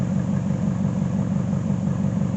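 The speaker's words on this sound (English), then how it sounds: "there's the LT1 cam idling." A truck's 350 V8 with an LT1 cam idles steadily through a leaky exhaust patched with sheet metal and a hose clamp, a close, continuous low rumble with a loping pulse and no talk.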